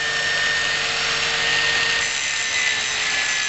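A power tool smoothing the edges of a cut metal blank for a bead blaster bottom, a continuous harsh grinding hiss, close and loud, steady for the whole few seconds.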